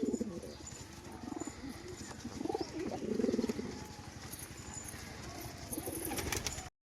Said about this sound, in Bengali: আপনাদের এক সেট পায়রা দেখাচ্ছি